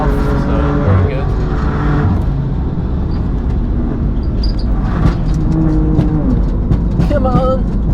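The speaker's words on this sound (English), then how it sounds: "Not sure if you can hear the intake noises." A sports car lapping the Nürburgring roars steadily from inside the cabin, its intake and engine drone rising and falling with shifts, loud and continuous under a driver talking.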